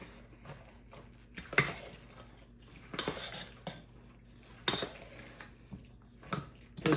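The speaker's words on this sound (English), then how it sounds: "And let's stir it all up." A spoon clinks and scrapes against a bowl as tuna noodle casserole ingredients are stirred, with irregular sharp clatters over a quiet background.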